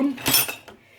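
A metal spoon clinking against kitchenware while making pizza with tomato sauce, a few close, bright, short clinks and scrapes with a brief voice at the start.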